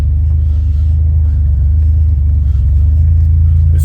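Buick Grand National on a test drive, a steady loud low engine rumble and road drone from inside the car, continuous throughout with a slight swell near the end.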